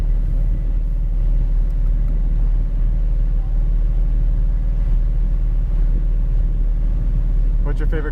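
A Porsche 718 Cayman GT4 rolls out onto the track at New Jersey Motorsports Park, its low engine rumble steady and continuous from the cabin, with a brief brighter burst near the end.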